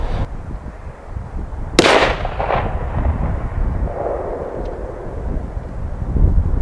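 A single loud shot from a Savage .243 Win bolt-action rifle fired outdoors, a sharp crack followed by a rolling, fading echo over a low rumbling background.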